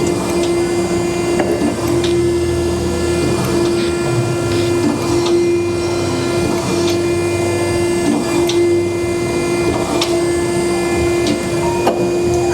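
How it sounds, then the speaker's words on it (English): An Okamoto ACC-1624DX 16" x 24" high-precision surface grinder sparks out, giving a loud, steady mechanical whine with a constant tone over broadband grinding noise that runs unbroken and close, with no talking. "So we're going to let this machine spark out."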